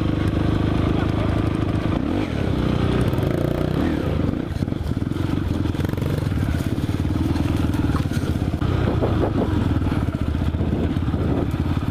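A motorcycle engine runs steadily and loudly throughout on a trail, with a continuous low rumble and some clatter, as if heard while riding.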